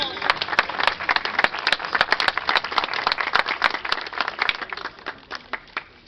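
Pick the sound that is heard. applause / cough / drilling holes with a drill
applause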